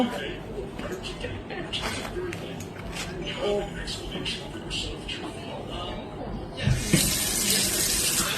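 Water runs from a tap into a sink while dishes are rinsed, making a steady splashing flow that grows louder toward the end as people talk nearby.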